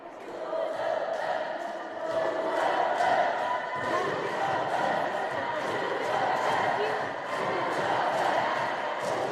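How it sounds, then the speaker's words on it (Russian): Volleyball fans in an arena chanting a team name in rhythmic unison during a women's match timeout, a sustained crowd roar with repeated pulses, heard at a distance. "Болельщики скандируют «Усалдан, Усалдан»"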